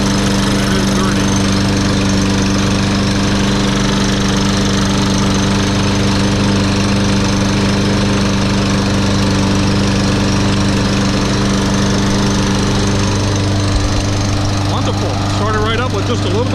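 A Husqvarna HUF625AWD 22-inch all-wheel-drive lawn mower engine runs steadily nearby, a loud, even idle hum that dips slightly in pitch near the end.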